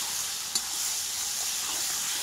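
Chicken and onions sauté in hot oil for a chicken do pyaza, a steady close sizzle and hiss with one brief scrape of stirring partway through.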